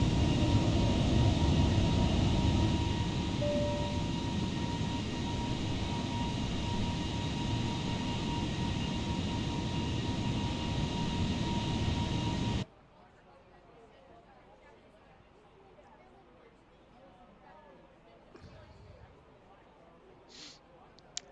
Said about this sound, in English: you hear that throttle